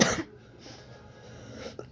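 A single sharp cough bursts out at the start, close and loud, followed by quiet room noise and a faint rustle near the end.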